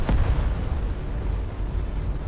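Space pirate cannon fire in Starcom: Unknown Space lands as a sharp boom at the start, then trails into a low, rumbling roar.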